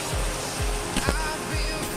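Rushing water of the Sungai Ara river, a steady broad wash up close with a few louder surges, and no talk over it.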